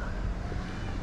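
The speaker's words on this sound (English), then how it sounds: "sorry about the wind" Low rumbling wind buffets the microphone on Parque Colon beach in Aguadilla in a steady, muffled roar, with faint surf-like wash underneath and no clear voices.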